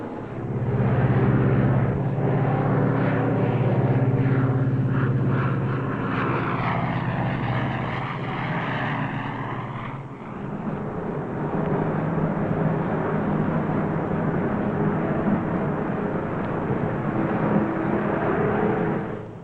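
Piston engines of a Lockheed Super Constellation propeller airliner drone steadily at climb power, heard from inside the aircraft as a loud continuous roar with throbbing propeller tones throughout.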